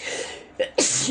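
A single sneeze in a home kitchen while a chicken roast is being prepared, a short sharp burst preceded by a brief intake of breath, close and fairly loud.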